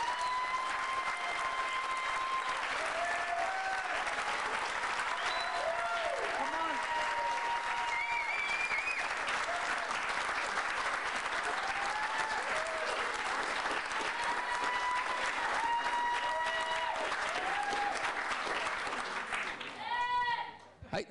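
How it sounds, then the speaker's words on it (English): A large audience at a school talent event claps loudly and steadily for a junior school's presentation, with sustained applause and a few cheers running nearly the whole time before tapering off at the end. "So let's hear a big round of applause for the presentation from Scargill"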